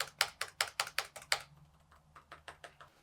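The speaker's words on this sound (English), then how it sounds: "You can hear that different keys have quite a distinctive sound signature." Laptop keyboard keys click in a quick run of crisp taps, then a softer, slower series of keystrokes follows, close and distinct, comparing a ThinkPad T14s Gen 2 and an M1 MacBook Air.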